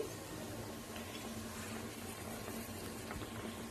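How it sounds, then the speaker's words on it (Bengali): Dal (lentils) simmering in a pot, a steady close bubbling and hiss that runs without a break, with no voices over it. "এই যে ডাল সিদ্ধ হচ্ছে"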